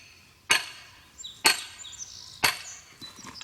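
A maul or sledgehammer strikes a steel wedge to split wood, giving three loud, sharp metallic impacts about a second apart, each ringing briefly with faint clinks between them.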